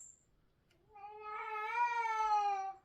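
A house cat lets out a single drawn-out meow, rising and then falling, close and clear in a quiet room.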